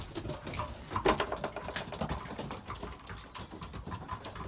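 Racing pigeons in a loft, including a young red bar, coo and shuffle in a steady low murmur with soft wing and foot patter throughout, fairly close and moderately loud.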